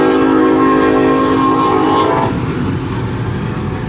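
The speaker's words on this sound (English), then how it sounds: "Should I race the train?" A freight train passing on tracks near a highway, a loud steady roar of rail wagons with a sustained horn-like tone in the first half that drops away, leaving rumbling clatter.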